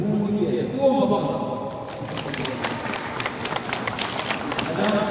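An audience at a Gyeonggi-do tennis sports event claps warmly for the students' parents; tonal voices fade out and dense, crisp applause takes over after about two seconds and runs to the end.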